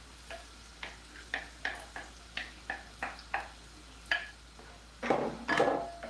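A spoon stirs plum tomato and homemade ginger garlic paste in a pot, giving a steady run of short, quiet scrapes that ends in two louder, longer swirls, with no talking.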